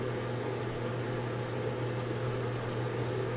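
A microwave oven runs with a bar of soap inside, giving a steady, even hum with a low mains drone that holds unchanged throughout.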